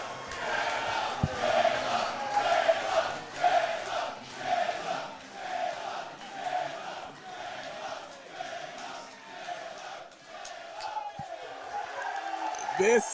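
A bar crowd at Joe's cheers and chants in rhythmic waves as the Chicago Bears draft Caleb Williams, a loud mass of voices with pulsing shouts and occasional bangs.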